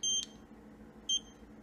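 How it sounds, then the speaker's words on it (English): Two short, high electronic beeps from a DOVPO E-Mech Transformer vape mod, about a second apart, over a faint low hum. "See, it doesn't take a whole lot and you're beeping."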